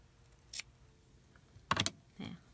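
Scissors snip fluffy fabric fuzz from lacing-card craft pieces, a few short crisp cuts close by in a quiet room: one brief snip early, then a quick cluster and a softer final cut.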